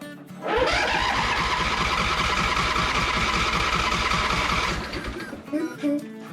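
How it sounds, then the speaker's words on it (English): Craftsman zero turn mower engine cranks and starts, a loud rhythmic starter churn running for about four seconds before cutting off, followed by quieter sputters and a voice near the end. "let's fire it up again and see how it goes"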